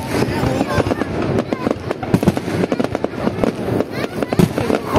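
Loud, dense crackling fireworks for Tet, a nonstop barrage of sharp pops and bangs close by, with voices talking underneath.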